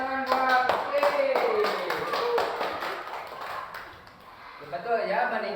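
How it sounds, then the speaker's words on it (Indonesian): Children in a classroom clap their hands together in a brisk burst of taps, loud at first and trailing off, with a teacher's voice speaking over the start and again at the end. "Bagus, tepuk tangan buat Putri."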